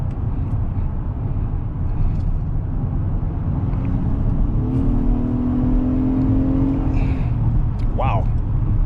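Engine and road noise from a 2022 Acura MDX A-Spec SH-AWD accelerating, with piped-in engine sound rising as a smooth climbing drone mid-clip inside the cabin, under steady road rumble.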